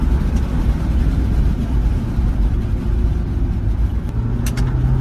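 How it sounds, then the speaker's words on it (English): Jeep Wrangler 4xe with a 2-liter turbo engine and electric motor accelerating hard, a steady, loud, close rumble and road roar that holds throughout with no letup. "Now this thing's really got some pickup when you get on the gas here"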